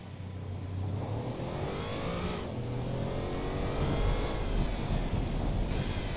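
A V16 sports car in the racing sim Automation accelerates around a test track, its engine a loud continuous drone with rising and shifting revs, with no talk over it.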